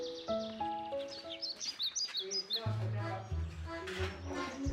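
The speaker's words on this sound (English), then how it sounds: "There are lovebirds at home, 4 of them." Four pet lovebirds at home chirp around a plate of grass and water used as a bird bath, with bright, quick tweets coming in short bursts close by while a person talks over them.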